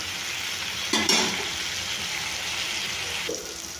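Chili powder is added and stirred in hot oil for mutton head curry, a close steady sizzle that swells briefly with a sharp spattering burst and then settles into continuous frying hiss.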